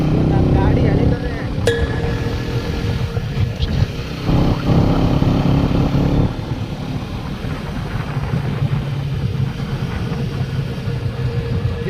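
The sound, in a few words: new motorcycle engine running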